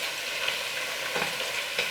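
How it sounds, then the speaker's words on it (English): Bacon sizzles and crackles steadily in a hot pan, a close, continuous frying hiss with small pops and no voices. "So while my bacon is getting louder and frying"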